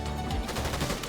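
A rapid burst of shots from the Lawless Stink Rifle in Fortnite, loud and dense, a quick rattling string of reports packed into about a second.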